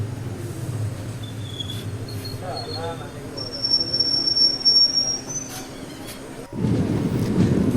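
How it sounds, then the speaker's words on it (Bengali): A Mayurakshi Express train leaving Panchhara railway station rumbles along with high metallic squeals from the wheels, growing louder as it gets underway, insects chirping faintly in the background. "আমাদের ট্রেন পানছাড়া রেল স্টেশন ছেড়ে দিল"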